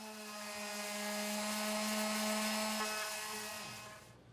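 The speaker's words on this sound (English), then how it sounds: "For this piece, I'm using 80 grit sandpaper and an orbital or vibrating sander." Orbital sander running with 80 grit sandpaper on a wooden chair: a steady whining motor hum with a faint gritty scrubbing, swelling for a few seconds before winding down and stopping near the end.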